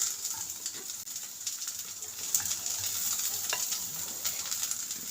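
Carrot and mushroom stir-fry in a pan over a high flame, giving a soft, steady hiss of sizzling with faint scraping and clicks from stirring, fairly quiet and continuous.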